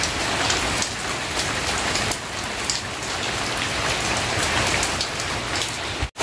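Heavy rain pours down outdoors in a steady, dense hiss, loud and continuous throughout with no voices, ending in a brief dropout.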